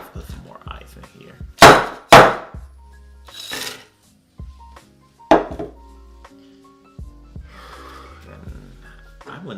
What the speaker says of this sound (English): Let's put some more ice in here.